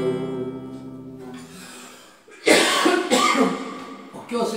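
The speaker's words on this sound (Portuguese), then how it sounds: "Por que eu segurei essa tosse no final da música?" At the end of a song on a live stream, a singer lets out several rough, loud coughs close to the microphone after a held sung note fades, with breathy throat-clearing between bursts.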